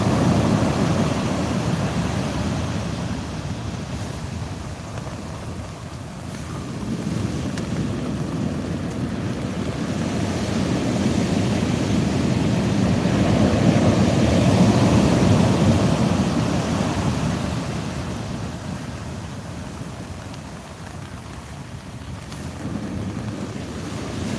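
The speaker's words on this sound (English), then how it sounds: "we're getting attacked by weed and waves at the moment" Sea swell and waves surge around a fishing kayak at sea, a continuous rushing wash with slow rises and falls, mixed with wind buffeting the microphone.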